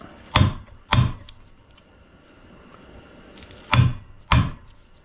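A hammer strikes a metal piece four times to straighten it before welding, coming as two quick pairs of sharp, ringing blows, close up, with a quiet gap between the pairs and no talking.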